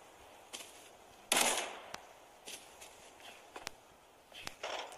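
Sparse gunshots from Arena Breakout crack at a distance, one louder burst followed by scattered single sharp reports and faint shuffling sounds in a quiet setting.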